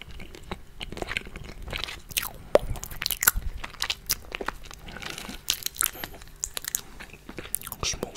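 Someone eats sweet tamarind up close, peeling the pods, biting and chewing with crisp crunches, tearing and wet mouth sounds in an irregular rhythm, with occasional soft noises between bites.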